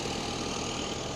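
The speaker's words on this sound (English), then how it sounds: "So this tractor is a Kubota." A Kubota 52-horsepower hydrostatic-drive tractor with a cab idles with a steady, even engine rumble. The sound is continuous and close, with no talk over it.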